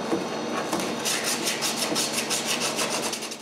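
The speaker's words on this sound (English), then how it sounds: "The inside walls of the rabbet are quite rough, so I have to sand them a little." Hand sanding the rough inside walls of a rabbet on a wooden oval box produces a loud, close, rhythmic rasping, with steady back-and-forth strokes that grow regular after the first second and run throughout without speech.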